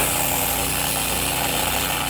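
A power tool grinds steadily through metal while cutting a groove in a solar rack for a school bus conversion, loud and close with a constant buzzing drone.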